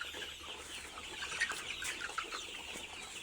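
Brown cock chickens cluck on a farm, with soft scattered clucks and calls at moderate distance over a quiet outdoor background.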